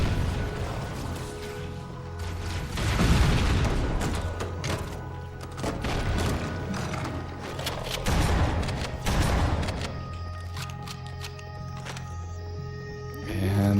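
Dense, sustained gunfire and explosions from rocket launchers in the video game Halo: Combat Evolved, loud and continuous, with bursts and booms layered throughout and a steady game tone underneath.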